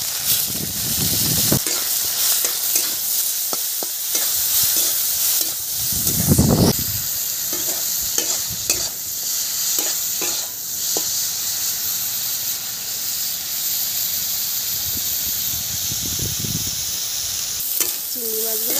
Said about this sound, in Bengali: এবার আমি তেলের মধ্যে দিয়ে দেব চিংড়ি